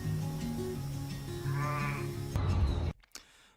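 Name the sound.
sheep bleating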